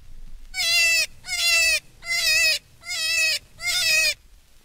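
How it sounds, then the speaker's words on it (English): Another cottontail rabbit in distress, five strained, bleating screams with a wavering pitch, each nearly a second long with short gaps, close and loud with nothing else audible. "Here is another cottontail."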